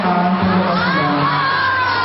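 Huge crowd at a mall show cheering and shouting continuously, a dense roar of many voices with children's shrieks rising above it, loud and close, filling the whole moment.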